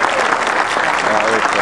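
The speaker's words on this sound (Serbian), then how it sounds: "želim da jednim velikim aplauzom pozdravim ovu decu" An audience applauds loudly in a dense, continuous burst to greet young children at a sports club event in Novi Sad.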